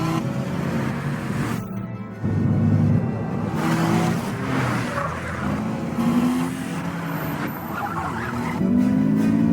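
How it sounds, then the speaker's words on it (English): Cars in a long chase sequence through Rome for a film, with engines roaring and tires squealing and skidding almost continuously, loud and close, rising and falling over several seconds. "we wanted to make that a really big, long car chase"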